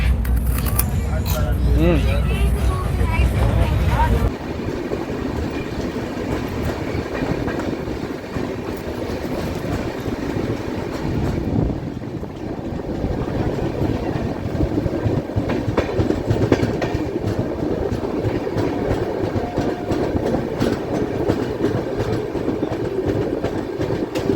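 An express train runs between Patliputra and Gorakhpur near Siwan, with a steady rumble and clatter from inside the carriage and a louder roar at the start, while people talk throughout.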